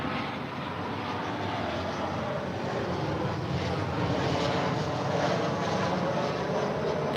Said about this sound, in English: here we have Southwest Airlines. It's flight 695. It's coming from Vegas. It's a 737-700.